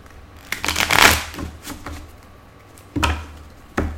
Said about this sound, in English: I need to do a couple shuffles with this deck.